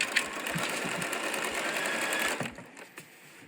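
A sewing machine runs in a fast steady whir, stitching quilt sashing strips together, then stops and a few soft handling clicks follow.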